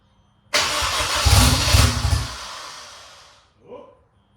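Honda S2000 engine cranking and struggling to start with low fuel pressure: one loud, rough churning burst of about three seconds that fades out, then a short faint sputter, close up.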